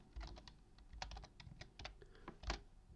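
Quiet clicks of a computer keyboard as Arduino switch-case code is typed, with irregular bursts of keystrokes at close range and no voice.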